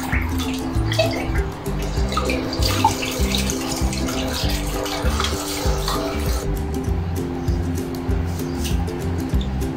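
Pork belly is washed under a running tap, with a steady, close splashing rush of water interrupted by irregular gurgles and drips from handling the meat.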